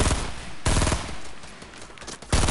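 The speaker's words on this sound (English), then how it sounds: "He's trying to shoot me down. He's got a and He's got a scar. I hear it. It will, it sounds like a scar." SCAR assault rifle fire in Fortnite: loud, close bursts of rapid automatic shots with short pauses between volleys, no talking.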